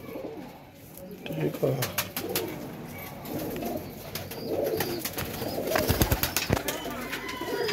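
Pigeons coo repeatedly in a loft, soft rolling coos recurring through the scene with wing flutters and clicks, while someone talks over them.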